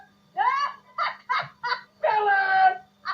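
A voice imitates a bird call, giving about six honking, goose-like squawks in an uneven rhythm, with one longer drawn-out call near the end, close and fairly loud.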